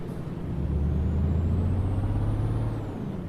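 Truck air brakes hiss in Euro Truck Simulator 2, a sustained loud release over the low rumble of the idling engine, heard alone without talk.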